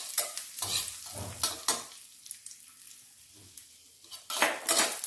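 Raisins roast in ghee in a pan for kaaypola, stirred with a spoon that scrapes and clinks against the metal in bursts, over a soft sizzle with a quieter stretch in the middle.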